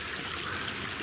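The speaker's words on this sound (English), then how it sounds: "With this water flowing through this pipe so quickly" Water rushes quickly through a half-inch ram pump pipe as a steady, dense hiss of flow that holds even throughout, with no voices.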